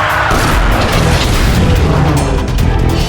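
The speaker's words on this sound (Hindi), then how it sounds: "माइक्रो मिसाइल आक्रमण!" A cartoon micro missile attack explodes in a loud, sustained booming roar, with dense rumbling blasts and crashes filling about three seconds at close range.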